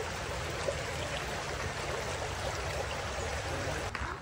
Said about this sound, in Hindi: ये जो पानी की आवाज आ रही है